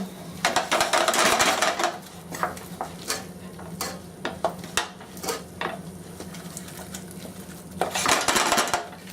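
A spoon works butter into Milanese risotto in a pot, with repeated scraping and clinking of metal against the pan and a soft sizzle. The sound is close and busy, in bursts with brief pauses, and nobody talks.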